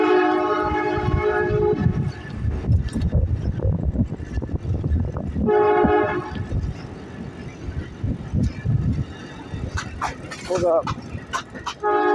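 Norfolk Southern freight stack train rushing past up close, loud rumbling rail noise with repeated sustained horn blasts sounding through, and a person briefly speaking over it.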